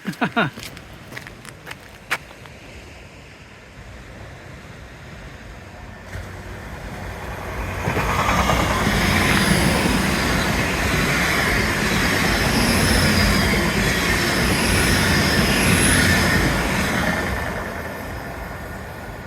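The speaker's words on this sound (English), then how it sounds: "Look at that train, right on schedule" A train rumbles past, building to a loud, steady roar with faint high squeals, then easing off; a few clicks and a brief voice come before it.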